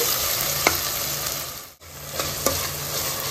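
Tomatoes cooking in a pan over a medium gas flame give a steady close sizzle, broken by a few scraping stirs and one brief pause.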